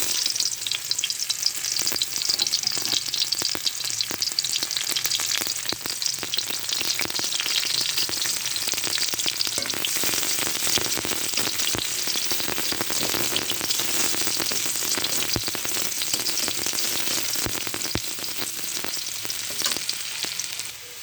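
Chopped onion frying in hot oil in a wok, a loud continuous sizzle with occasional stirring scrapes, steady throughout with no talking.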